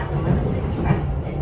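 Train passing in Japan during an annual earthquake-memorial drill: a steady, loud rumble of rail cars with low engine drone throughout, no clear breaks.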